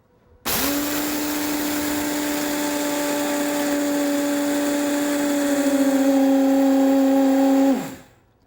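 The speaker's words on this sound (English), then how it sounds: "This blender is really wonderful at taking hard ingredients like rice or nuts, for example, and completely pulverizing them into flours or nut butters" A Vitamix Series 200 blender on high pulverizes long grain rice into flour. Its motor starts abruptly into a loud, steady whine that holds for about seven seconds, then spins down and stops.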